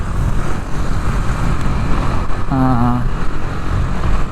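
A Suzuki Skywave 125 motor scooter rides along with a steady engine drone under rushing wind, loud and close, with a brief wavering tone near the middle.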